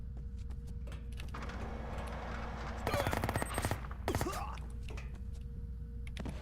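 Bursts of AK rifle fire in a video game, two short rapid volleys a second apart over a steady game background hum.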